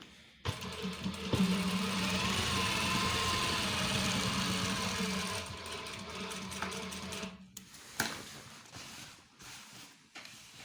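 An electric sewing machine stitches police uniform trousers in a steady, close, continuous whir for several seconds, then stops, leaving a few quieter clicks and handling noises.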